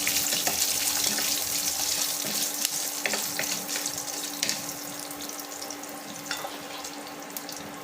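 Curry leaves sizzling in hot oil in a pan while making rava kitchadi, a steady bright crackle and hiss running throughout, close and fairly loud, with no talking.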